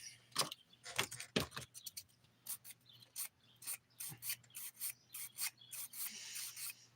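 Short scratchy rasping strokes in quick irregular bursts, close and quiet, like a nail file worked back and forth.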